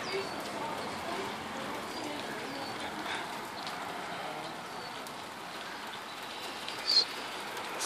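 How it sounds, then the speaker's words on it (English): Heavy rain during a rainstorm in Boise pours down as a dense, constant patter of drops hitting surfaces, steady throughout with a brief louder knock near the end and no clear speech. "Some heavy rain."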